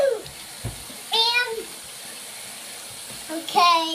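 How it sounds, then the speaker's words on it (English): A small backyard waterfall with water flowing steadily in a soft, continuous splashing hiss. Voices, including a child's, talk over it in short bursts. "So that's my waterfall."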